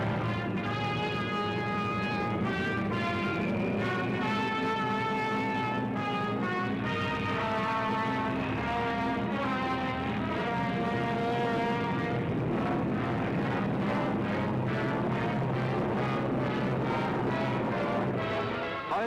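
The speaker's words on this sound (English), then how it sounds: "German bombers and Messerschmitt fighters roared over the English coast" World War II German bombers and Messerschmitt fighters roar overhead in archival footage, a dense, continuous droning of many engines that stays loud throughout.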